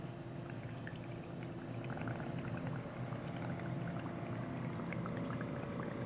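Air is blown gently through a straw into a cup of paint water, producing a steady, soft bubbling gurgle that continues without pause, quiet and close, with no voices.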